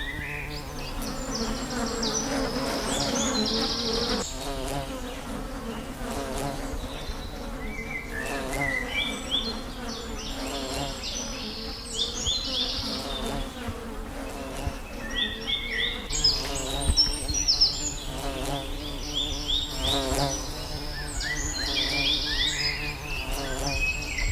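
Bees buzz inside a glass-walled beehive in Agadir, Morocco, a dense close droning hum with individual bees whining in and out, loud and steady, with faint bird calls in the background and no speech.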